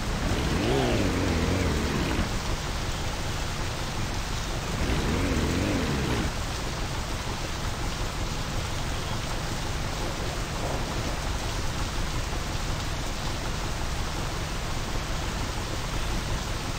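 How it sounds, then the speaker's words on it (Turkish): Rain falls steadily in the video game My Summer Car, a dense, constant hiss throughout, with a low voice-like hum rising briefly twice early on. "yağmur gelmiş"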